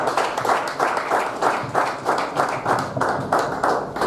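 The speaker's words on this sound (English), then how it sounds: "If you are clapping, you can clap better" Rhythmic group clapping at a football coaching course launch in Oyo, Nigeria, in regular bursts of roughly two per second that stay loud and even throughout.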